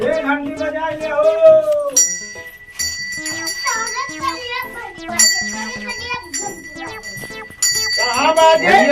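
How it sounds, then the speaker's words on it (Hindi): A bell rings with a bright, sustained metallic tone at a Shiva temple, its steady ring running through most of the clip beneath lively children's chatter and other voices. "एक घंटी बजा ले हो।"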